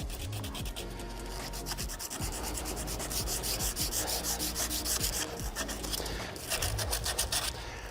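Coarse 100-grit sandpaper is rubbed across the end grain of a wooden guitar neck in rapid back-and-forth strokes. The rasping is loud, close and continuous throughout.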